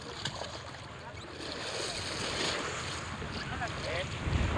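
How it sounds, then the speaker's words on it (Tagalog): Rough sea waves surge and crash against a boat amid strong wind buffeting the microphone, a continuous roaring wash that swells toward the end. "Lakas po talaga ng alon."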